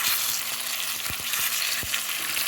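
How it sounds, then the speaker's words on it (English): Pork chops sizzle in hot oil in a pot, a steady close frying hiss with a few soft clicks and knocks from the pot, no voices. "put a little oil. Then you're gonna put your pork chops in."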